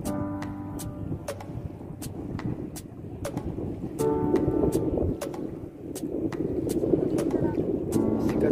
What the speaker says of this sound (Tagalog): Lakas ng hangin, kaya maingay.